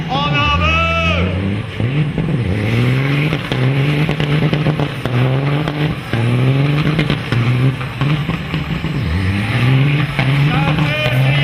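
Semi trucks drag racing, their big diesel engines revving and roaring up through the gears in loud, rising sweeps, with an excited crowd shouting and talking over the noise.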